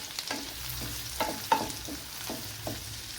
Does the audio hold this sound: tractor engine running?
no